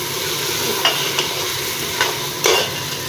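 Turnip and meat curry stirred in a frying pot, a steady sizzle of hot oil broken by a few scraping strokes of a spoon against the pot.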